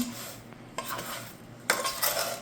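Peaches being stirred together with two kinds of sugar in a bowl, giving soft scraping and clinking of a utensil against the dish in short bursts, close and fairly quiet, with no talking.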